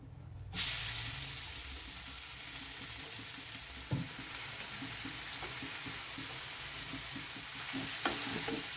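Grated carrots with whole cardamom sizzle steadily in a pan while being stirred for carrot halwa, giving a constant close hiss broken by occasional scraping knocks of the spoon.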